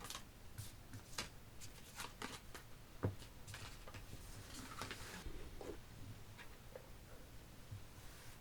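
Tarot cards shuffled and drawn during a reading, a run of quick crisp card snaps and soft papery rustles, fairly close and moderately quiet, with no one speaking.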